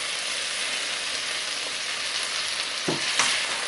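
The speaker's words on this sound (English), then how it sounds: "So let's try to stir this a little bit" Greens with onions and garlic being stirred while they sauté in a pot give off a steady, close sizzle, with a short clunk and scrape from the stirring near the end.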